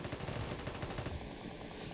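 Rapid bursts of gunfire in Call of Duty Mobile, dense and continuous, heard alone without voices.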